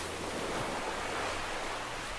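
Ocean surf breaking in a steady, continuous wash of broadband noise, wave after wave with no clear gaps, moderately loud and heard alone without voices.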